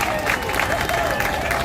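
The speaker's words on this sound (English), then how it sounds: "Please give them all a round of applause." An audience at a Memorial Day ceremony gives a steady round of applause, a dense, even wash of clapping that holds without a break.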